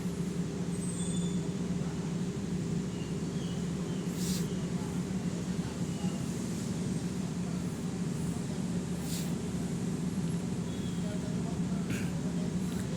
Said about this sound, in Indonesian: Ini kereta api Bimanya udah masuk di peron 1 atau jalur 1